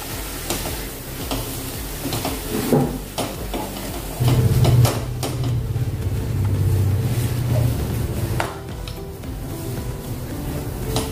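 Spinach roasting with gram flour in a wok, heard as scraping, stirring taps and a soft sizzle, with a low hum rising midway through.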